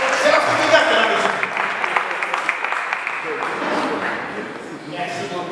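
An audience claps at an international conference on engagement in Africa, a dense, steady patter of many hands that fades toward the end while a voice speaks over it.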